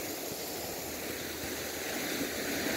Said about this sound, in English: Check out this neat little waterfall over here too.